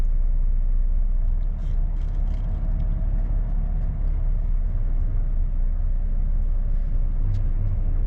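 A car passing along a quiet London road late on a Friday night, a steady low rumble of engine and tyres that swells gently and holds close throughout.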